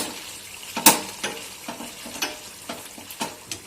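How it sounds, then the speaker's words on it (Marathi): Mutton vajadi sizzling in hot oil while a spoon stirs the pan, a steady faint fry with a loud clank near the start and regular soft scraping strokes throughout. "एक पाच मिनटं आपण असंच तेलात शिजून शिजू आता"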